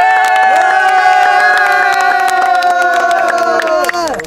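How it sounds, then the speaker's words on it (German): Children cheering loudly for Lea after she scored a goal: sustained, overlapping high shouts from a close group with a few scattered claps, holding steady before fading out at the end. "Applaus für die Lea!"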